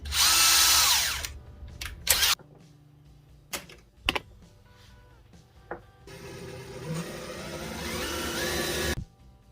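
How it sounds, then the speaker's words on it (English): A power drill bores pilot holes into a wooden fishing lure body, sounding in a loud burst at the start and a longer steady run near the end, with short clicks and handling noises between. "We're just gonna drill some pilot holes in here."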